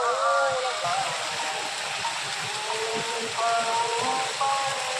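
A fountain pours water from the mouth of a cow statue at a temple, a constant loud splashing rush heard close by, with a voice talking intermittently over the flow.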